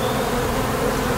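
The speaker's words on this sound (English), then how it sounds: "this hive is literally overflowing with bees" Honeybees swarm around an overflowing hive, a loud, dense, steady buzzing that fills the whole moment up close, with no voices.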